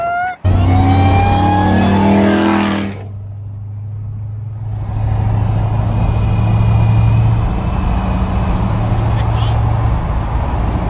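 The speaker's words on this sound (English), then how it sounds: "That is the greatest thing I've ever heard drive by" A supercharged Dodge Charger Pursuit roars past close by. Its loud engine note sweeps down in pitch as it goes, then fades to a lower rumble while people talk over it.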